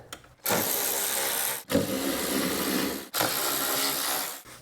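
Bolts, 10mm, being driven back in on a 2004-2009 Toyota Prius during an engine swap: loud, close, steady whirring from a power tool in three long bursts with short gaps between them.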